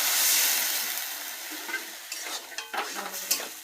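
Water poured into a pan of fish curry hits the hot oil with a loud hiss that settles into bubbling sizzle, with a few spoon stirs and scrapes near the end.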